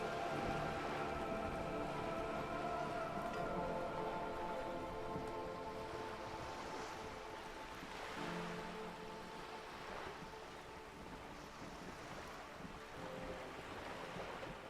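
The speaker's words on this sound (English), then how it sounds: "All around you, rain keeps falling down. On the wooden boards she's standing on, and on the water around you." Steady rain pours onto wooden boards and the surrounding water in the video game Disco Elysium, a dense continuous hiss and patter with a low wash beneath, constant and close throughout with no voices.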